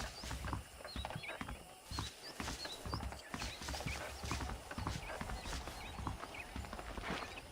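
Horse hooves clip-clop steadily in the Western video game Red Dead Redemption, a walking rhythm of moderate, close hoof falls over a soft outdoor ambience with occasional small chirps.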